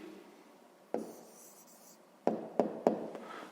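Pen writing an answer for a fifth-grade maths exercise: soft scratching strokes on paper, close and quiet, ending in a few sharp taps as the writing finishes.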